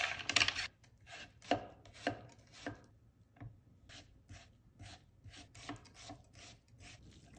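A knife crunches through mini cucumbers on a cutting board, laid between chopsticks, giving a quick cluster of crisp cuts, then a short pause and a run of sharp, evenly spaced slices close up.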